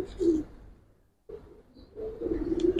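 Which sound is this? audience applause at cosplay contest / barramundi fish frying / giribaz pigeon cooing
giribaz pigeon cooing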